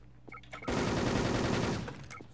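Automatic gunfire in Wolfteam on a museum map in a deathmatch mode: one sustained rapid burst of shots lasting over a second. It follows a few faint clicks and is fairly quiet overall.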